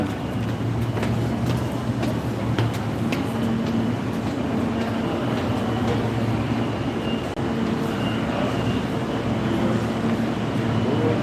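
New York City subway train rumbling steadily, a continuous loud rolling roar with faint squeals and clatter throughout and no clear voices.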